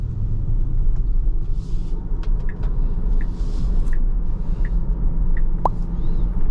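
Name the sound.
Tesla Model Y Performance driving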